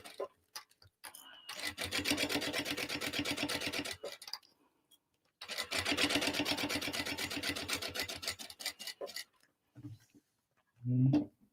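A sewing machine running a long basting stitch on a tote bag, two close bursts of rapid mechanical whirring about two to three seconds each, separated by a pause, with soft handling noises around them.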